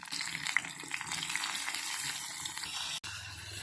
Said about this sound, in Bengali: এরপর আমি কাঁকরোলটাকে সুন্দরভাবে ভেজে নেব সামান্য পরিমাণে লবণ দিয়ে।